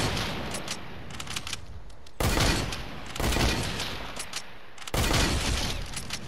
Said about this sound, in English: that's my hunting rifle